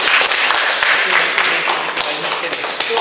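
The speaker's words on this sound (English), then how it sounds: "A big clap for him." An audience claps at a college farewell event, a dense and loud burst of applause that holds steady for a few seconds, with a voice mixed in.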